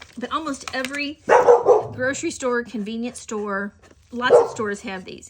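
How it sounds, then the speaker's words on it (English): A pet dog barking in a home craft room, repeated yips and barks mixed in and around steady talking from a nearby voice. "can you stop barking, please? That's my dog."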